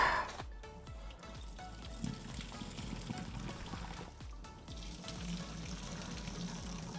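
Water pours and gurgles out of a pasta pot through a snap-on strainer lid, a steady splashing drain sound close by with a few clinks of the pot and lid.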